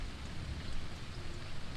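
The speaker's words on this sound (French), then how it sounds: "Et puis au bout d'un moment, il pleut à verse." Heavy rain pouring down as a storytelling sound effect, a dense constant hiss of drops with low rumbling underneath, steady throughout.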